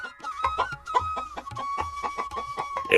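Two cartoon chickens cluck in a quick, repeating series of short pulses over a faint sustained tone, close and fairly quiet, with no speech.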